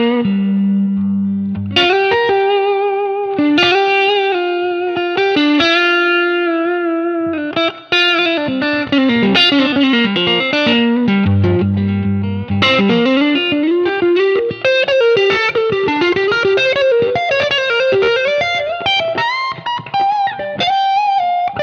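Electric guitar played through an overdrive pedal on its own, giving a thick, saturated tone with long singing sustain; a melodic line of held and bending notes plays steadily for about twenty seconds with no talking.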